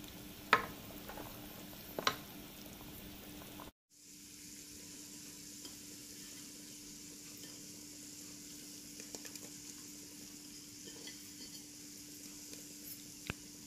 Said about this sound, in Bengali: তেলের মাঝে আমি একটু বেরাস্তা করলাম